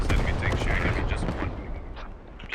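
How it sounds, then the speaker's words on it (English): Mortar carrier firing in a combined-arms urban battle video game, heard as dense, continuous booming gunfire and blasts that stay loud throughout and taper slightly toward the end. "And that mortar carry just unleashing."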